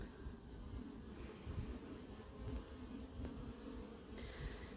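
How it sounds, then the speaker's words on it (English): A dense, steady buzzing of many honey bees flying in and out of a hive close by, a continuous low hum with no voices. "go close and see if we can see the bees flying in and out?"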